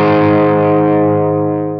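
A single distorted electric guitar chord rings out through a BIAS amp model of a beefed-up 100-watt Marshall JCM 800 on its dirty rhythm setting, loud and sustained and slowly decaying.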